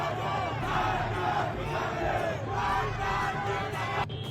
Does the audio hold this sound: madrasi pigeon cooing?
no